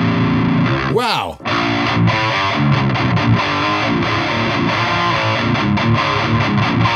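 Distorted electric guitar recorded through a microphone-modeling plugin set to an omni polar pattern, heard as a loud, dense, sustained wall of crunchy chords with a brief sweeping dip near the start.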